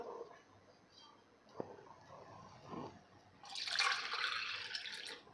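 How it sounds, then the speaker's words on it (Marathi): Water poured by the cup into a large pot for papad dough, a few soft knocks and drips early, then a louder splashing gush of water filling the pot in the last seconds. "आता यामध्ये आपल्याला पाणी घालायचं आहे तर इथे बघा आपल्याला सहा कप पाणी घालायचं आहे"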